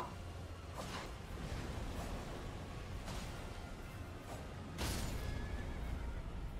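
A horse in the Elden Ring video game neighs in several sharp whinnies over a low in-game background rumble, with no one talking.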